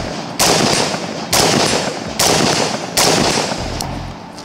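Unsuppressed AR-15 rifle shots in a video game crack out four times, loud and sharp, each blast followed by a fading echo tail, spaced roughly a second apart with no voices.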